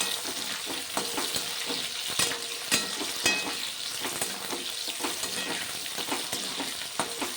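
Onions sizzling in hot oil in a pan as they are stirred, with steady frying crackle and repeated scraping clicks of the spatula, close and fairly quiet.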